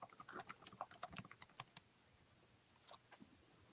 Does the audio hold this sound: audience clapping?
no